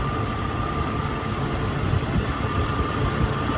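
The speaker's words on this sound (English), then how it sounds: "How do y'all think my engine sounds?" A 2000 Jeep Cherokee 4WD engine idles steadily with its cooling system open, a continuous even mechanical hum and rumble close by with no voices over it.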